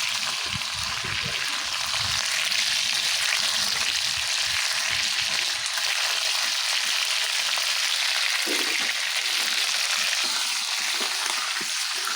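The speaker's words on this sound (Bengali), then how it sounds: "এখন মাছও ভাজতেছি আসলে মাছটা একটু লাল করে বাজমো" Fish fries in oil to a reddish colour, giving a loud, dense, unbroken sizzle that holds steady for the whole stretch with no talking.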